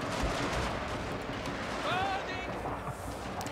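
Garrison units firing from castle walls in the strategy game Fall of the Samurai, a steady crackle of distant gunshots over dense battle din.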